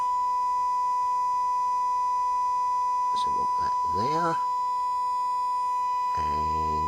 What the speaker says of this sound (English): We've got a sine wave coming across there.